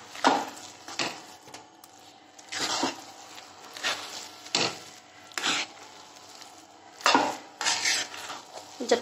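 A spoon scrapes and clanks against a pan while stirring a thick carrot laddu mixture with cardamom powder, in repeated strokes every second or so, close and fairly loud.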